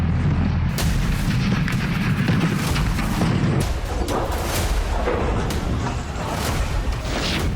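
Heavy explosions from a drone and missile attack on Russian cities, a loud continuous barrage of booms and rumbling blasts with dense crackling debris noise.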